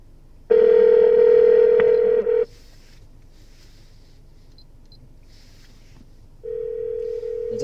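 A phone call placed through a Pioneer AVH-X2600BT car stereo: a loud steady tone lasts about two seconds, quiet follows, then a ringback tone begins near the end, all over a low in-car rumble.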